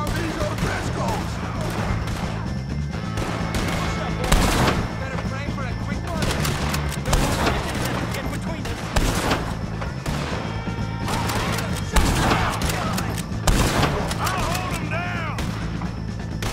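Gunfire cracks through a Red Dead Redemption 2 shootout against O'Driscolls, with loud, irregular shots and bursts repeating over a droning game soundscape, and shouting voices are mixed in.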